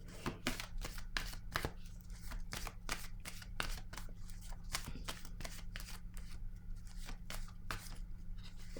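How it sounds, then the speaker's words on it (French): Tarot cards handled and laid down, a rapid run of crisp flicks and snaps from the deck repeating steadily, close up over a faint low hum, no speech. "Je vais déposer une autre carte."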